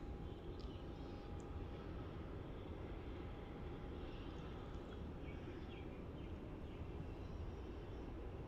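A Boeing 737 taking off at Melbourne Airport gives a steady, broad engine roar that holds at an even level from start to finish, with no voices over it.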